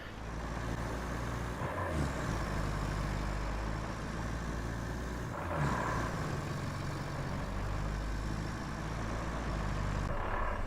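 Truck engine in the Roadcraft video game, a low heavy rumble idling and pulling away, steady and close with a couple of shifts in pitch as it drives, no talking.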